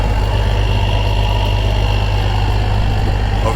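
A Massey Ferguson 760 combine with a Perkins engine idles close by, a loud, steady, low rumble that holds even throughout.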